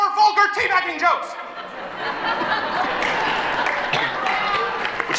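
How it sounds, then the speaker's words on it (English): An audience at a stand-up comedy show breaks into applause mixed with laughter after a short burst of talk, the clapping swelling into a dense, sustained crowd wash. "So applause break there"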